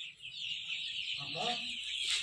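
Hundreds of small desi country chicks in a poultry farm shed give a continuous high, shrill chirping that stays close and steady throughout, with a brief low murmur partway through.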